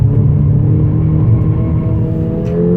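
A Mercedes-AMG pulls hard out of a tight mountain hairpin, a loud, steady engine drone with a deep low rumble and rising harmonic tones, continuous and close with no talk.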